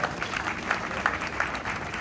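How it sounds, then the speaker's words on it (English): At a film screening event, an audience applauds a speaker with a faint, continuous patter of many hands clapping for about two seconds. "please another round of applause for her"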